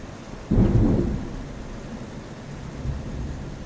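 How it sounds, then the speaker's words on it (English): A single heavy rumble of thunder rolls in during a farm day, a sudden loud low boom that fades slowly, followed by a fainter second rumble amid steady background noise. "That's just thunder. Getting closer."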